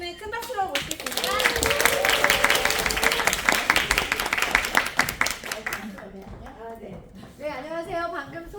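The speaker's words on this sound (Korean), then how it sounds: "강사님을 큰 박수로 모시겠습니다" Audience applause welcoming a lecturer at a business seminar in Korea, a dense burst of many hands clapping that swells and holds for several seconds, then fades as a speaker's voice takes over.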